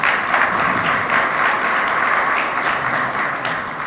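An audience at a chamber of commerce annual meeting breaks into loud, steady applause for an event sponsor, dense clapping from a crowd sustained throughout with no talking over it.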